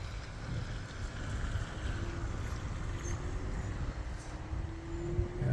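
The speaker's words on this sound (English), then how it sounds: "Getting some gusty winds as well." Gusty wind blows during a November lake effect snowstorm with heavy snow falling, a continuous low roar buffeting the microphone, steady and fairly loud throughout.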